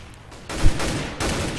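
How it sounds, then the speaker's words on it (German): Gunfire in Counter-Strike on the de_mirage map: a short, loud burst of sharp shots in quick succession. "Boah, ein Schuss von Kirby."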